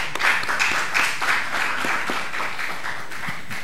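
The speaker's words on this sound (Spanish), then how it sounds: "Recibimos entonces con fuerte aplauso a Jorge Flores Inga" An audience at a book presentation at the Centro Cultural de España claps, a steady wash of applause filling the room at moderate loudness from start to end.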